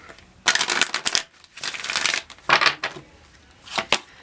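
A deck of tarot cards is shuffled close by in several quick riffling bursts split by short pauses, each a brisk papery rattle, with no voices.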